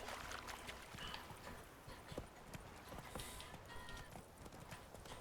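Horse hooves clip-clop faintly in The Witcher 3, a loose run of soft hollow knocks at a walking pace over a low, quiet ambient bed, with brief murmured speech.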